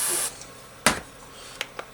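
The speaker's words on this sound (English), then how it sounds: "We'll spray it." A short hissing burst from a spray can, used on electronics while testing a B&K 1460 oscilloscope, is followed by a sharp click and a couple of fainter brief sprays.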